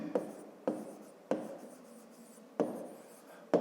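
Pen strokes scratch across paper during a handwritten maths exercise, five short bursts of writing, each starting with a sharp onset and trailing off, close and fairly quiet with no voice.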